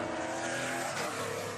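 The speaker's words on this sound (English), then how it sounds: "The roar of race car engines zooming around the track could be heard for miles in Roseville Friday afternoon" NASCAR race cars roar around the track in Roseville, a loud, dense, continuous engine blare that swells slightly as cars pass close by.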